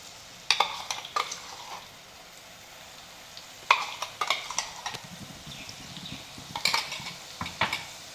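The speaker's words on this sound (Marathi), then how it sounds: "आता व्यवस्थित एक मिनिटभर हे तेलात छान परतून घेऊया मसाला मीडियम गॅसवर" Ground masala paste for a Konkani pomfret curry sautéing in oil over medium heat: a soft sizzle runs underneath while a spoon clinks and scrapes the pan in three clusters of sharp taps.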